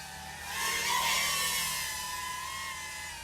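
An iFlight Protek25 pusher drone flying past with its motors screaming, a high whining buzz that swells as it nears and then fades slightly while holding a sustained pitch.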